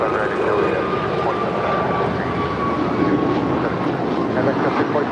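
An American Airlines jet takes off at LAX bound for Miami, a steady, loud, broad engine roar that holds for the whole stretch, with faint radio-style voices underneath.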